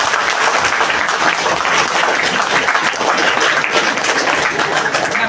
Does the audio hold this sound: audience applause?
yes